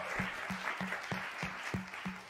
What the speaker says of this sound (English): Please give one more big round of applause for all the performers.